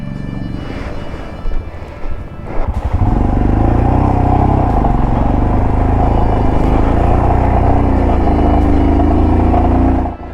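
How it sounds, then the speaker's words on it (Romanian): Motorcycle ridden over loose, unsettled dirt ground in the Zanskar Valley of the Himalaya, engine loud and close, revving and laboring steadily, with a rougher, clattering start giving way to a sustained throttle-held roar. "Solul netasat făcea motocicleta să fugă în toate părțile."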